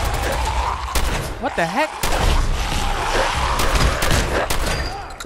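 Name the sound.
gunfire in video game Fallout 4 Nuka-World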